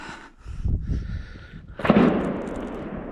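Distant gunshots echoing across a valley near a lake, a couple of muffled booming reports with a rolling tail, heard outdoors over faint wind.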